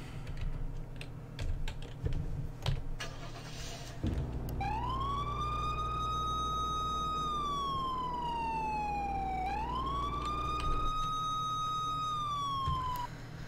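A police car siren in the video game Flashing Lights wails, sweeping up and down in long, loud cycles, starting abruptly after a few seconds of clicky keyboard-like tapping.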